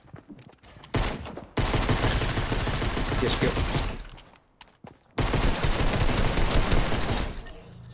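Fortnite gunfire in two long bursts of rapid shots, loud and close, broken by brief gaps, while a player says a few words.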